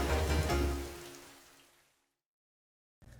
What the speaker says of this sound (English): and God sent rain.